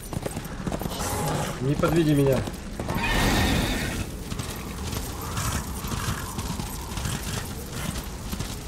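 A horse galloping and neighing in Darksiders Warmastered Edition, with hoofbeats and a brief whinny mixed under a man's nearby speech and game noise.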